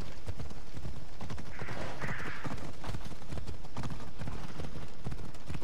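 Horse hooves clip-clop in Assassin's Creed Odyssey, a steady rapid run of hoofbeats over a busy game soundscape near a harbor, close and fairly loud with no talk.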